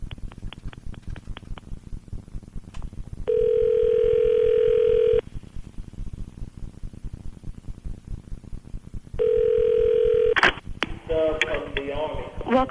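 A phone dials a number: a quick series of short touch-tone beeps, then steady tones, with line clicks and a speaker-phone connection as a call goes through on a radio show.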